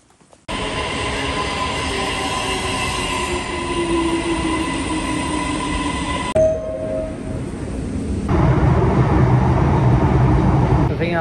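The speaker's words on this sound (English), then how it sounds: "And we made it to the train station." Ambience inside a nearly empty train station: a rumbling train running steadily, a brief squeal, then a shift to a wider hollow rush of rail noise.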